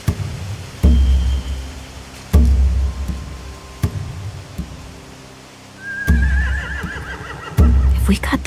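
Horses in the video game Telltale's The Walking Dead Final Season whinny and neigh several times in loud bursts over a quiet background, with a shrill whistle-like neigh near the end.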